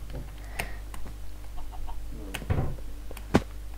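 Short chicken clucks pop up in a video game, a few brief bird calls mixed with clicks and tapping over a steady low background hum.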